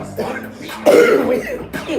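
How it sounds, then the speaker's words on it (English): A raspy cough bursts out amid rough throat noise, with a couple of smaller hacking coughs around it, close and fairly loud. "He coughing because that smoke be in his blood"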